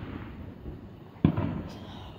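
A single Fourth of July firework bursts with a sharp boom partway through, following a quiet stretch of low background rumble, with crackling decay after the blast.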